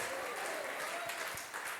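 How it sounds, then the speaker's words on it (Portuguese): Congregation applauding during a Pentecostal church service, a steady wash of clapping that fills the room throughout, with a voice faintly audible beneath it. "Dá um aplauso a esse Deus maravilhoso"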